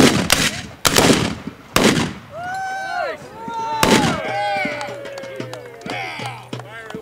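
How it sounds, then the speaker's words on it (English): Double-barrel percussion long arms fire at a Renaissance fair pirate reenactment: loud, sharp reports come in quick succession, several close together at the start and another a few seconds later, while shouting and crowd chatter carry on around them. "You notice the two women are both using double barrels. Percussion long arm."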